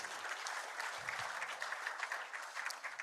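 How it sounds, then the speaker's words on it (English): Steady audience applause, a dense wash of many hands clapping continuously throughout, fairly distant and even in level. "Let's give a heartfelt round of applause"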